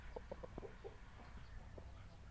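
A Saigon breed rooster on a farm gives a few short, quiet clucks in a quick irregular burst, then falls mostly silent against a faint background.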